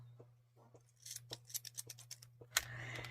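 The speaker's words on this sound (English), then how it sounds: "I'm just going to trim off that tail" Scissors trimming a crochet yarn tail, several quiet, close snips in quick succession over a faint steady hum.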